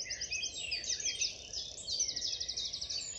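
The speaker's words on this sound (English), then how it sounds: "one of the most distinctive ones you can hear is the chiffchaff." A chiffchaff sings in the Hembury woods dawn chorus in May, repeated high chirping notes in a steady run, faint and fairly distant over a quiet woodland background.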